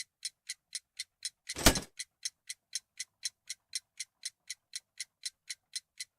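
A homemade ticking time bomb in the video game Sherlock Holmes: The Devil's Daughter, built from an alarm clock with a bell and hammer. It gives crisp, evenly spaced ticks, about four a second, broken once by a short dull thump.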